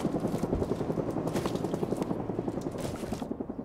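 A helicopter's rotor throbs in a steady, fast chopping pulse, moderately close and continuous throughout, without any talking over it.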